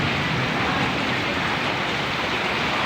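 Strong water current rushing during heavy rain, a dense, steady, loud roar of flowing water with no breaks and no voices.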